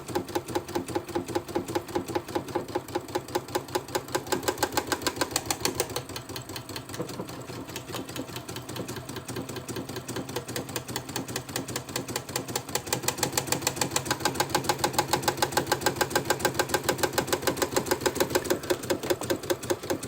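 A Baby Lock Solaris sewing machine embroidering a buttonhole on organza with an embroidery needle and thread: a fast, steady, rapid mechanical stitching rattle, close and continuous throughout, with no talking.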